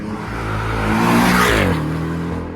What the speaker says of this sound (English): Audi S3 leaving. E36